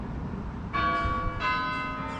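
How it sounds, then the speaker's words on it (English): A church bell rings out nearby, two clear strikes each leaving a bright, sustained ringing tone that hangs over a background of low outdoor rumble, with no voices. "there's that bell again"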